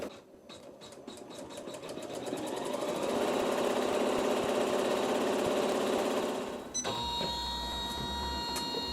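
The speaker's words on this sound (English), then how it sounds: "it's going to do a decorative stitch all around the outside perimeter" A sewing machine stitches a decorative pattern around a Dresden plate quilt block, its motor whirring steadily up to speed and then shifting to a different, rattling tone toward the end.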